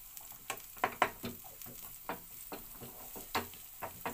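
Paneer sautés in a hot kadhai for street-style paneer egg rolls, kept crisp rather than browned: a steady sizzle runs throughout, broken by frequent sharp clinks and scrapes of stirring close by.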